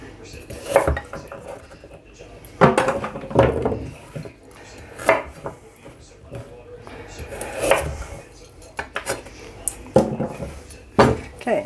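A knife chopping the ends off vegetables on a board while a roast lamb dinner is prepared, with irregular close knocks and clinks of blade, board and nearby pans.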